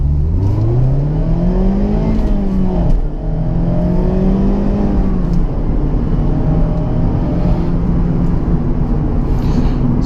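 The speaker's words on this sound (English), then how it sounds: "Do a little acceleration right here," A Mazda Miata accelerates in first gear, its engine note climbing steadily and loudly, dipping briefly at a shift-like break before rising again.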